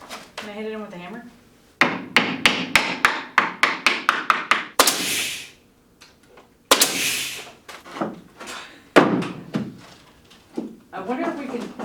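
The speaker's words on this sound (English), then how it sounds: "Can I hit it in with a hammer?" Hammer knocking a spruce interior siding board into place: a loud run of sharp, evenly spaced wooden knocks, then a pause and another burst of blows, with people talking in between.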